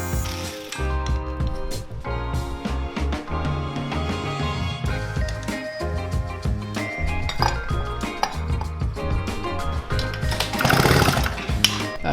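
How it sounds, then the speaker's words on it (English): Metal brackets being cut off a motorized bicycle kit frame, a loud harsh grinding and clattering with rapid rhythmic bursts, close and continuous with no talk. "I gotta cut out these little brackets because they get in the way"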